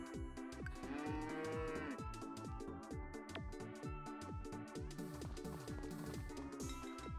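A farm cow moos in the farming game Story of Seasons: Friends of Mineral Town, set over steady, rhythmic background game music that runs loudly throughout.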